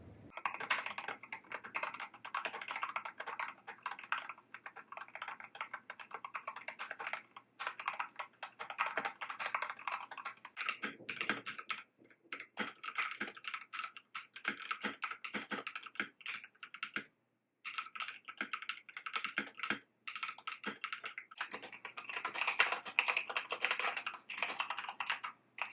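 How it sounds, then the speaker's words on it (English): Several different computer keyboards typed on in turn at a desk setup, a continuous close clatter of key presses with short pauses between runs, loud and clear with no talk. "I also have a few different keyboards, so we're just gonna go through a nice sound test right now."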